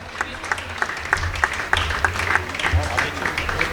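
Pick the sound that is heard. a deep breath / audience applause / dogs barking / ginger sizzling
audience applause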